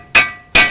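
Two sharp metallic hammer strikes about half a second apart on the suspension of a 2001–2004 Chevrolet Optra, near the outer tie rod, each ringing bright and decaying, close and loud with no talking.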